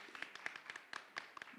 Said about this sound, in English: Can we have a big round of applause to boost up?